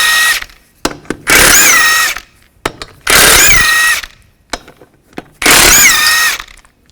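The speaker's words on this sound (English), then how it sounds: "remove the lug nuts using the same 19mm socket" A power tool with a 19mm socket spins lug nuts off the front wheel of a 2005-2010 Chevrolet Cobalt. Three loud, sustained whirring bursts with a whining pitch sound up close, with short clicks and clunks between them.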